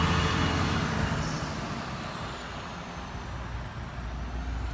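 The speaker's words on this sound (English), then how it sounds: "I'll let this truck pass." Truck passing by on a rural road beside a farm, a loud, close, broad rumbling whoosh that peaks at the start and slowly fades as it moves away.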